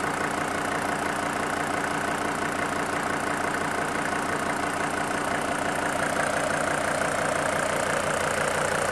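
A car engine runs steadily at a fast idle, close and loud, with a constant broadband roar and rhythmic low pulsing throughout, no voices.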